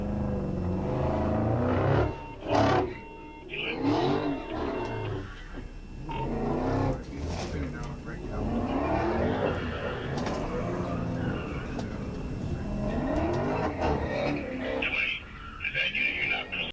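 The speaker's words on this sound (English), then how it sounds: "This guy cannot, for the life of him, let go of the throttle." A car engine revs repeatedly during a police chase, rising and falling in pitch, while someone talks over much of it.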